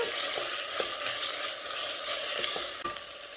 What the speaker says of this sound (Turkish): Yeşil biber koyalım. Azıcık kavuralım.